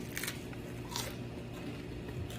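A crunchy cheese taco filled with plant-based meat crumble bitten into, giving a few sharp crunches close to the microphone against a steady low background hum, with no talking.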